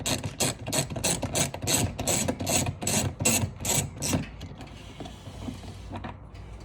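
Long screws being backed out of splash guards on a Dodge Challenger, a rapid, even series of ratcheting clicks from a hand tool that runs steadily for several seconds and then stops, leaving a faint hiss.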